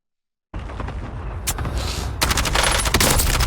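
Rapid video game gunfire erupts after a brief silence, dense bursts of shots building louder and closer through a gunfight with no talking.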